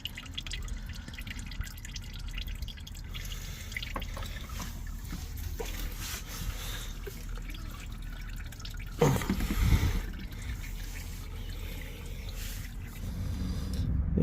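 Used engine oil from a 2015 Nissan Rogue drips steadily from a freshly removed oil filter in a garage, a continuous faint patter and trickle with a brief louder clatter partway through, no talk.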